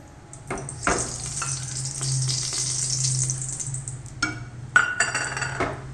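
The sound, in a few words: oil and ghee sizzling in a heated pressure cooker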